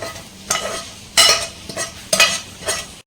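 Paneer stirred into a Kashmiri-chili gravy in a kadai: a few separate bursts of scraping and sizzling as the spoon works through the pan, loud and close, with no voices.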